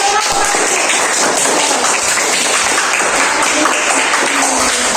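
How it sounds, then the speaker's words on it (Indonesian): A class of sixth-grade students clapping hands together after a group presentation, dense continuous clapping filling the room, loud and close with some voices mixed in. "Tepuk tangan."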